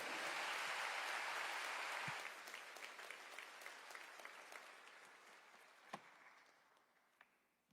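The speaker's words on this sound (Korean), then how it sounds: "큰 박수로 목사님을 맞이하시겠습니다" A church congregation at a Friday night service at Yoido Full Gospel Church bursts into loud, dense applause welcoming the pastor, sustained for about two seconds before thinning into scattered claps and a few sharp knocks as it fades.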